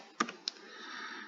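Two crisp keystrokes on a computer keyboard sound close and faint, followed by a soft lingering hiss.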